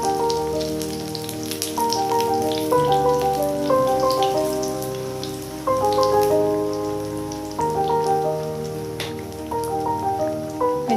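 Steady rain falls outside during the rainy season, a continuous even patter heard under background music that plays throughout.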